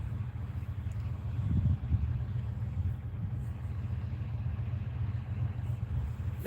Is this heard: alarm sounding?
no